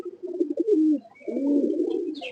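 A pigeon coos up close in two low, throaty rolling phrases, with a faint higher chirp near the end; a crossbred pigeon from a Beji line.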